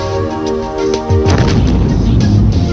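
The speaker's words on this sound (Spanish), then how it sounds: "Junto con los ingenieros expusimos aquel modelo de ventana a una explosión" Explosion blast test on a window model, a sudden loud boom cutting through a steady droning background, followed by a rumbling, crackling blast that sustains for over a second.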